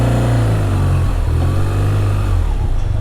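A BMW R12 GS motorcycle accelerates on a cold, damp day, its engine droning loud and close with a rising then falling pitch as it pulls away and shifts gears, no talking over it.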